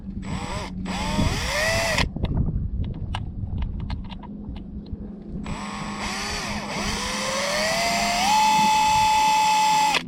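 A power drill boring into a stainless steel bolt, heard as loud, close, high-pitched whirring bursts that rise and fall. The motor revs in starts and stops, then holds a long continuous grinding whine.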